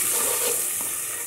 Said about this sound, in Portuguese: E aqui eu já tô queimando mais alho aqui pra temperar meu arroz, refogar meu arroz